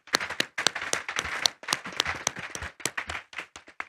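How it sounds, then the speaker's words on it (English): Applause from the audience for a panel at a discussion on sustainable city financing, a small-to-medium crowd clapping in distinct, fairly close claps that thin out toward the end. "Can I hear a round of applause for our esteemed panel,"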